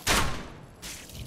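In Dark Souls, a crossbow fires wooden bolts at a drake, giving two quick sharp impact bursts about 0.7 seconds apart, loud and close, with no talking.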